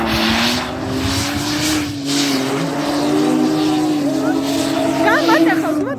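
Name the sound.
T-40 tractor engine revving off-road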